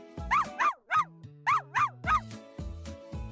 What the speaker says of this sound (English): Dogs barks, whimpers, and howls.